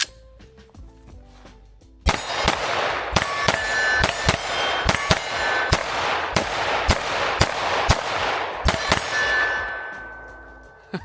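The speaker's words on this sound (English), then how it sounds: "Let's shoot the Echelon first." Springfield Echelon Compact pistol fired outdoors with open sights, about a dozen sharp, loud metallic-ringing shots spaced roughly half a second apart, each leaving a short ringing tail, no talking.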